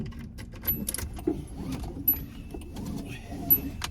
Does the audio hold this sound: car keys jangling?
yes